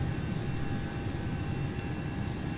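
The CFM jet engines of an Alaska A321 in X-Plane 11 drone through a climb toward cruise altitude, a steady broadband roar with faint tonal whines riding on top.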